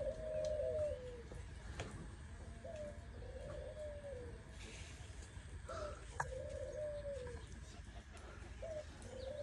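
Pigeons in a village setting give repeated soft coos at a moderate distance, with brief flutters and faint background ambience.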